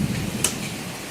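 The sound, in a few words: thunder and rain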